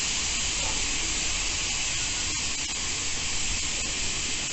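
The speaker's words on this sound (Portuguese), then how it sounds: "eu alivio a pressão levantando a válvula" Steady hiss of steam escaping from a home pressure cooker as its valve is lifted, a loud, continuous broadband rush running alone for the whole stretch with no break.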